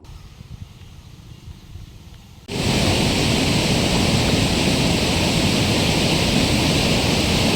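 A large stream swollen by heavy rain surges past, a loud, dense, unbroken roar of rushing water that jumps in suddenly after a quieter opening few seconds and then holds steady.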